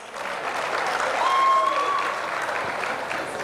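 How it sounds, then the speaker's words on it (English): A crowd applauds steadily, a dense wash of clapping that swells slightly midway and continues throughout. "Can you give a round of applause?"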